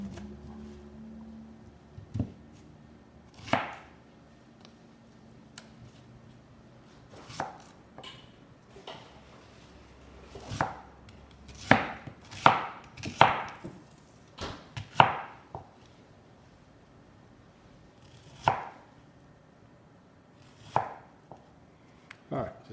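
A knife slices beef filet thinly on a cutting board, making sparse, irregular taps that cluster in a quicker run midway, clear and close in a quiet room.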